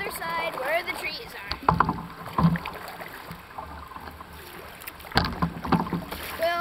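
Paddles dip and splash as a canoe moves across open water, with soft rhythmic strokes and light wind noise while people talk nearby.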